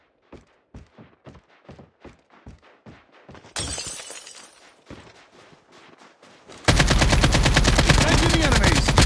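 Gunfire in the mobile shooter Call of Duty Mobile: a run of evenly spaced single shots, then a burst of louder blasts with shattering, ending in sustained rapid automatic fire close up.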